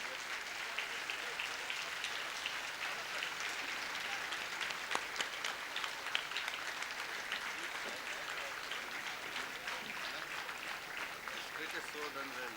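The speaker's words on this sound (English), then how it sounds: "kindly give them a standing ovation" A theatre audience gives a standing ovation after a play, with dense, steady applause filling the room for the whole stretch, the sharp individual claps bright and close amid a broad wash of hands.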